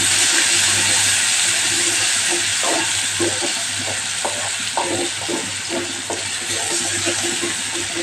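Ginger, chili and garlic paste sautés in a pan for a Kathiyavadi carrot-potato dish, a continuous bright sizzle with a steady hiss and occasional stirring scrapes.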